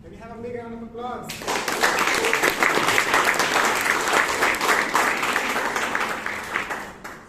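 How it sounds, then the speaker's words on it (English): Applause breaks out at a Bangalore Toastmasters meeting after a brief spoken lead-in, a dense, steady roar of many hands that fills the room for several seconds before tapering near the end. "Can we have a big round of applause?"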